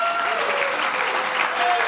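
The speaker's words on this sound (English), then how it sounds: "very good at clapping for themselves" A crowd at a Litecoin event applauds itself, dense steady clapping filling the whole stretch at close, even loudness, with a few faint voices mixed in.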